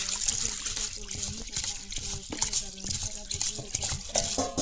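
Chana dal being rinsed with water in a bowl, steady trickling and sloshing with small drips and splashes, close and continuous, with a voice speaking over it.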